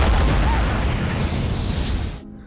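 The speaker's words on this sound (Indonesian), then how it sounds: "Sesaat kemudian bunker itu pun akhirnya meledak." A loud, rumbling bunker explosion in a film fills the clip with broadband roar, sustained for about two seconds before dropping away abruptly.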